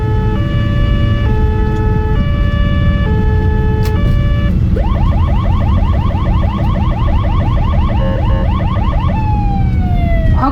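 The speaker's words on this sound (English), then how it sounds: "this is so sort of stressful with the honking and the sirens" Loud, close Polish ambulance siren wails and yelps in rapid repeating cycles, switching patterns over constant heavy traffic rumble and car horns.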